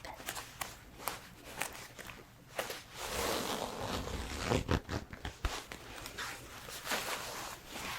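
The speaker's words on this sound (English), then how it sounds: "It is pretty warm, so I'm gonna unzip it." A polyester ski jacket being unzipped up close, with sharp ratcheting zipper bursts and rustling fabric handling over several seconds, no talking.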